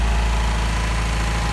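A built, naturally aspirated KA24DE engine runs at a high idle, a loud, constant close-up rumble with a rough grinding undertone from the flywheel.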